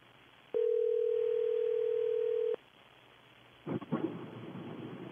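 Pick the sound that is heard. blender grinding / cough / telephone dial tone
telephone dial tone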